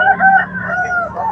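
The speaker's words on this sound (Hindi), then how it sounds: "ये एक बनगरी का मुर्गा है" A tall Bangri rooster crows at a busy poultry market, a single drawn-out call with a strong rising then falling pitch, close and loud over a low background hum.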